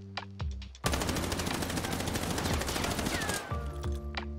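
A rapid burst of Sten SMG automatic fire from the Warzone video game, one loud, continuous rattle of shots lasting about three seconds, with a few quieter pops before and after.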